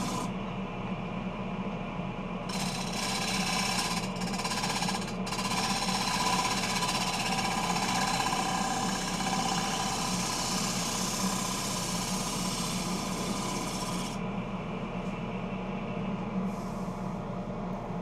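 Steady, dense grinding and hissing from a wood lathe turning dry mahogany into dust and shavings, a continuous loud whir for the full stretch with brief dips in the upper hiss.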